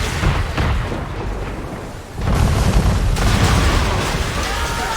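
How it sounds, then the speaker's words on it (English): Heavy cannon fire from a man-of-war warship in Assassin's Creed III lands as deep booming blasts. A dip is followed by a renewed loud, rumbling barrage that carries through to the end. "Man of war firing!"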